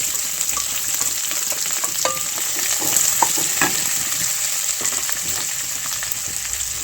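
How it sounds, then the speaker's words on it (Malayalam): Sliced onions and curry leaves sautéing in a hot pan, a steady crackling sizzle throughout with occasional clicks and scrapes of stirring, close and moderately loud, no voices. "ഇതിനെ നന്നായിട്ട് ഒരു ബ്രൗൺ കളർ കിട്ടുന്നത് വരെ ഒന്ന് വഴറ്റിയെടുക്കുക."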